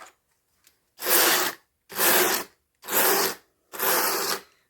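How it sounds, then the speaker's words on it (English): Wool being burnished down on a blending board, a thin layer laid over sparkle and bamboo fibres: four steady, even brushing rasps, each about half a second long with short gaps between, close and fairly loud, with no talking. "Burnishing a little harder now because I'm trying to really see how much space I've got"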